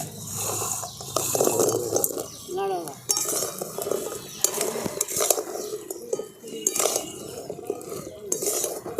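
Fried homemade Bengali sweets dropped into thick sugar syrup in a pot, with scattered clinks and scrapes of a spoon against metal and soft splashing, close by and moderately loud, with no talking.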